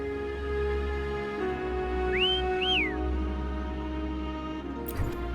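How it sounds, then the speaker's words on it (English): In the video game Wuthering Waves, a character whistles two short rising-and-falling notes to call a companion, clear over a steady music bed, with a brief chime near the end. "Try whistling."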